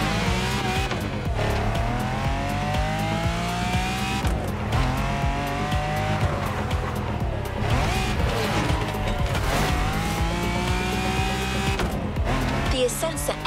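A Lamborghini Aensa race car drives on the Hanauma racetrack in The Crew Motorfest, a loud continuous engine whine that rises and falls through gear shifts, with tire squeals throughout.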